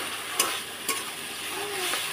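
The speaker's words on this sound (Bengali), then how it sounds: "ভালো করে মশলা মাছের সাথে কষিয়ে নিয়েছি।" Spices and Bombay duck fish fry together in a pan with a steady close sizzle, while a utensil stirs and scrapes the pan a couple of times.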